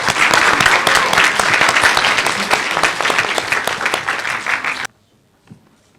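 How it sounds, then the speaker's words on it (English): An audience at a leadership session claps for a speaker, loud dense applause sustained for nearly five seconds before cutting off to near silence. "let's have a round of applause for Mr."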